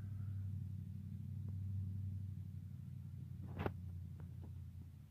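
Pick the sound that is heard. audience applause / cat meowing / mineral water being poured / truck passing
truck passing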